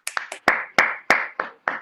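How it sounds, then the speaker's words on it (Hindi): Scattered clapping from an audience at a business open meeting in Nagpur, about nine separate sharp claps in an uneven rhythm, close and fairly loud, with no voices over them. "सब लोग दिल से उनके लिए एक बार ताली फिर से बजाएंगे"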